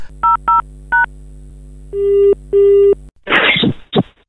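A mobile phone call is cut off, followed by several short electronic beeps and then longer repeated tones from the handset. A burst of noisy speech-like sound follows at the end.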